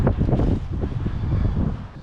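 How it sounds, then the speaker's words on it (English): Strong wind buffets the microphone on an open, exposed canal bank, a loud low rumble with gusty surges throughout and no other clear sound. "It's quite open here, so we're just getting a full brunt of the wind"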